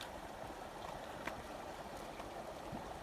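Creek water flows into a pipe in late winter as ice melts, making a soft, steady gurgling rush with faint trickles, low and fairly quiet throughout, with no voices.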